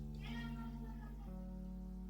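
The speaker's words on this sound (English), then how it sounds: "Pumpkin's meowing" A cat named Pumpkin gives one drawn-out meow near the start, then fades into a steady hum of sustained background tones.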